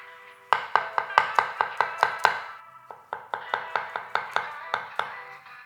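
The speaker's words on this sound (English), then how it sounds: "So we're just going to slice the mushrooms." A knife slices through mushrooms on a cutting board in quick, even chops, about two dozen crisp taps in two runs with a short pause between.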